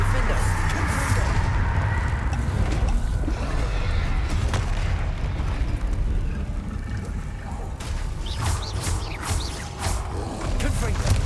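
Confringo fire explosion spells going off in Hogwarts Legacy combat: a steady roar of rumbling blasts and crackling bursts, with sharp impacts recurring throughout amid dense battle noise.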